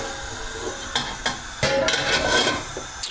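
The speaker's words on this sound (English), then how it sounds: "So really important you make sure you clean the wok out after each stage." Oil residue being scraped and wiped out of a hot wok, with short metallic scrapes and sizzling hiss in quick irregular strokes, close and fairly loud.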